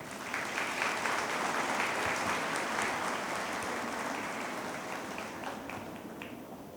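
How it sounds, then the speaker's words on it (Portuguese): A room full of people applauds at a credit cooperative's general assembly, a sustained, even wash of clapping that holds steady and slowly tapers toward the close. "Uma salva de palmas,"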